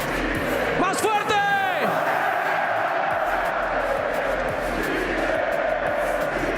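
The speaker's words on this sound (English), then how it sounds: "This crowd is having one hell of a time here" A large indoor esports arena crowd in Santiago, Chile roars steadily at a VALORANT tournament, with a loud whistle-like shout near the start and continuous dense cheering throughout.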